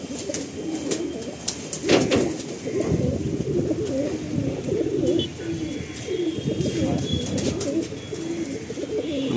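An Andhra pigeon pair, a male and a female held in the hands at a backyard loft, coos in repeated low, throaty rolls, close and fairly loud, with brief rustling and faint background noise between calls.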